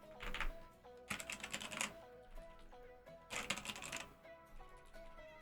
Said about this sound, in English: My new keyboard's way nice.